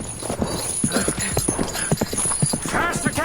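Horse hooves gallop in a fast, steady clip-clop as a radio drama sound effect. They are loud and close, with a whinny mixed in and voices talking over them.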